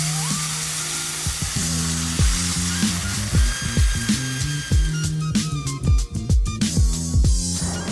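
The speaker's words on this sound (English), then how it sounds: "You can hear that sizzling happening." Vietnamese pancake frying in a pan at home, a continuous bright hiss of hot oil sizzling, close and steady, overlaid with repeated clinks and scrapes of a utensil against the pan, with no speech.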